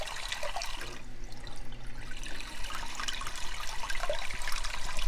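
Water streaming from a Marineland 220 canister filter outlet into an aquarium, a continuous close splashing and trickling with occasional bubbly gurgles.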